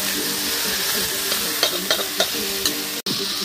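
Vegetables fry in a pan at an outdoor picnic, a steady close sizzle broken by a few clinking stirring strokes and a brief scrape near the end.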